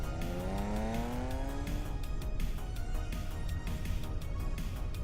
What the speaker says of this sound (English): Car coming too fast.